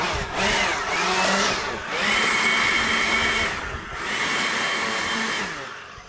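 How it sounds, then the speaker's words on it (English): A loud, whining leaf blower roars in three long bursts, easing off briefly between each one, with no talking, while blowing off a barn-find screen press. "I think we need to blow it off with the leaf blower"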